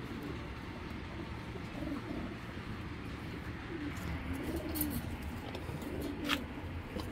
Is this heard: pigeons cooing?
yes